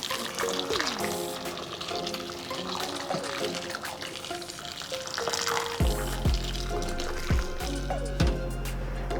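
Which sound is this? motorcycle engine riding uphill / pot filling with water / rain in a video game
pot filling with water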